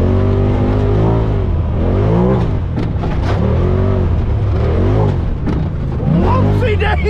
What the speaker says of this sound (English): Launch control, baby!